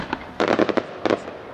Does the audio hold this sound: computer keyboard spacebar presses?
no